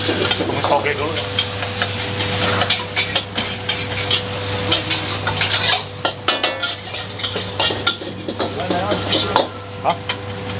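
Sausages fry in a busy food-stall kitchen on a Sunday night, a steady sizzle running under repeated scraping and clattering of a utensil stirring in the pan, with a constant low hum behind.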